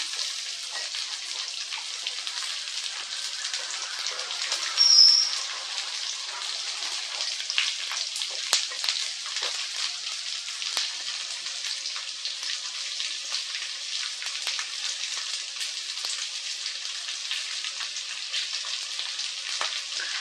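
Jackfruit seeds frying in oil on a low simmer give a steady, close crackling sizzle with scattered sharp pops, continuous throughout without any voices.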